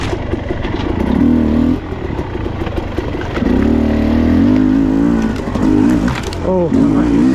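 A dirt bike engine revs repeatedly nearby, rising and falling in several loud surges with a buzzing tone, while someone talks over it.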